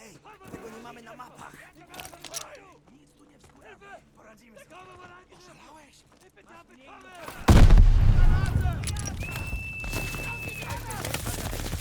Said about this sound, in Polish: Czemu to tak szybko wybuchło?